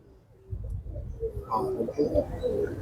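Pigeons coo on a rooftop during pigeon flying, soft low calls close by, mixed with rustling and a voice talking over them.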